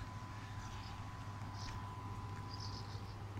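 A low, steady electrical hum from a working hydroelectric power plant drones under faint outdoor noise, with a thin constant tone above it and occasional soft chirps.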